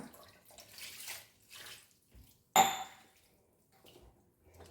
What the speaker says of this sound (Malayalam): വെള്ളമൊഴിക്കാം